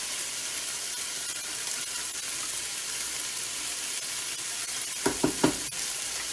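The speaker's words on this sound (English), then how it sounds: "So it's starting to splatter." Shrimp frying in butter with basil and arugula for broccoli pesto pasta, a steady hissing sizzle throughout, broken near the end by a few sharp, close pops of splattering fat.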